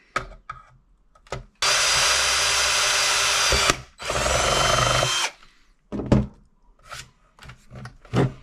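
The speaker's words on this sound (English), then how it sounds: "we need to go ahead and drill out a hole for the airline" A power drill bores a hole through a P90 airsoft gearbox for an HPA airline, running in two sustained loud bursts separated by a brief pause, with scattered clicks and handling knocks around them.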